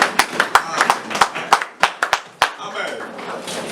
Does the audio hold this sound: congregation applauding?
yes